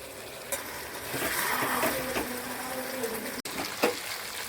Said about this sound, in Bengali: চিকেনটা কষা হয়ে গেছে, এবার ওটাতে জল দেওয়া হচ্ছে